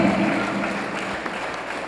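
A school quiz audience claps for a participant during a quarterfinal between Collège Toussaint Louverture and Collège Notre-Dame du Perpétuel, a short burst of dense applause that slowly tapers off.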